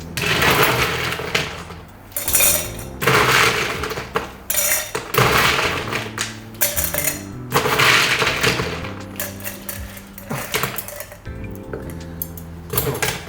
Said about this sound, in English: We start with our glass full of ice